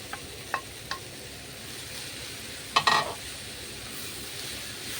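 Bitter gourd (ampalaya) stirred in a frying pan, a low steady sizzle running throughout with a few light utensil scrapes and one brief louder clatter of stirring near the middle.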